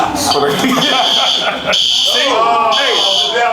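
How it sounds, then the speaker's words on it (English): A fire alarm sounds inside an Atlanta barbershop, a loud steady electronic buzzing tone persisting for several seconds beneath people talking. "my word's so hot, the fire alarm goes off."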